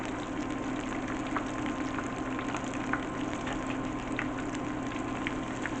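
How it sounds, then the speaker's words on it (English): Oyster mushrooms frying in a pan, a steady dense sizzle and hiss filling the whole stretch at an even level, with a few faint pops and no one speaking. "I'm going to fry off the rest of these"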